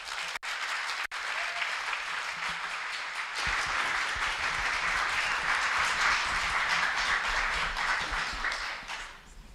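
An audience at a competition final for short research talks breaks into sustained applause, with loud, dense clapping from a large crowd that swells and carries on for several seconds.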